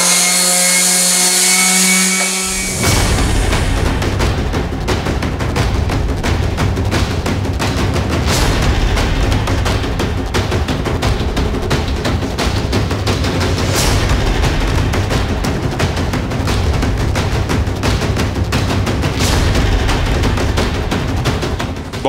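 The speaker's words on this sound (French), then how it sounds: "Ponceuse vibrante, branchée sur l'aspirateur, l'aspirateur il se met en route quand la ponceuse se met en route." Small orbital sander linked to a vacuum that starts with it, working across a wall: a loud, steady whirring roar that begins abruptly and runs continuously with a constant vacuum hum underneath, with no talk.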